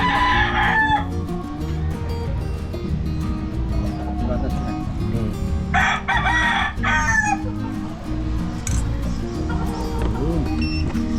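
Roosters crow repeatedly over a steady, loud background hum at a Team Spartan gamefowl yard in Cebu, with several overlapping calls from near and farther birds; no speech is heard.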